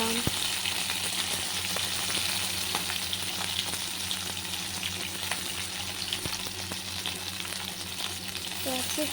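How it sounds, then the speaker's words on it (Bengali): Tomatoes frying in hot oil with dried red chilli pieces, whole cardamom and clove, a steady loud sizzle close up with occasional stirring clicks against the pan. "এরপর ভালো করে ভেজে নিতে হবে টমেটোগুলোকে আর ক্যাপসিকামগুলোকে।"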